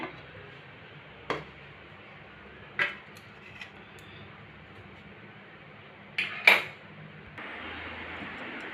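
A baked eggless suji cake tin is lifted out after the gas is switched off, giving a few sharp metallic clinks and knocks spaced across the clip, with a quiet room hum between them and no talking.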